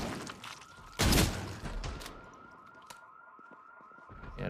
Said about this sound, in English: hear the alarm